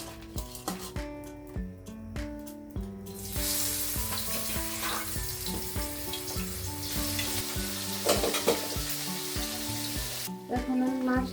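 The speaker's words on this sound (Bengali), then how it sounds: "এখন আমার তেলটা গরম হয়ে গেছে, আমি এখন মাছটা দিয়ে দিব।" Marinated shrimp go into hot oil in a pan, setting off a loud, continuous sizzle and spatter that swells and crackles, with melodic background music playing throughout.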